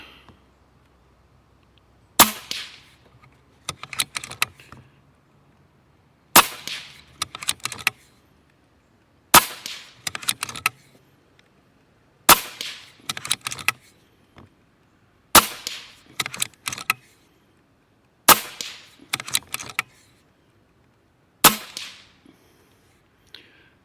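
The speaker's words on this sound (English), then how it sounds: "It's just so much fun shooting this gun." A JTS Airacuda Max .30 caliber air rifle fires eight sharp, loud shots at steady intervals of about three seconds, each crack followed by brief clicks and rattles of the action, with quiet between.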